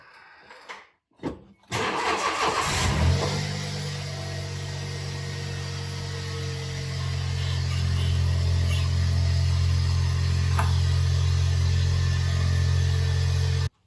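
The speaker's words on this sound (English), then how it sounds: "start the car, bring it up to temperature" A few clicks and a short crank, then a Smart car engine catches and settles into a steady, loud idle hum that continues to the end.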